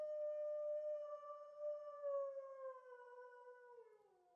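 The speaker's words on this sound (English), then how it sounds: "The howl of an animal. Sounds too high to be a dog." A high, drawn-out animal howl in the Tsukihime visual novel, a single sustained wavering cry that slowly falls in pitch over about four seconds, heard alone with no talk.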